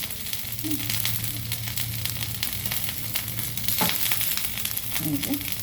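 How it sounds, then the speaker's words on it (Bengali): Prawns frying in oil with turmeric and salt in a wok, giving a steady, dense sizzle throughout with a few faint stirring clinks. "ভেজে নেব মাছটা।"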